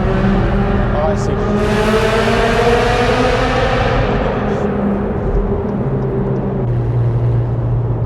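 A McLaren 720S supercar drives through the Yamate Tunnel in Tokyo, its engine a loud, steady, close roar with rising revs echoing off the tunnel walls, with voices talking over it.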